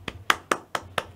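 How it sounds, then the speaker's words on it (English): Five slow, evenly spaced hand claps ring out alone, each a crisp, close smack with a deliberate pause between them. "We'll do a slow clap for you."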